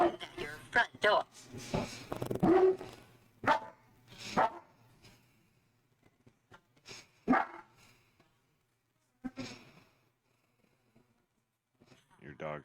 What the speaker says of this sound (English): Your dog's got my dog barking.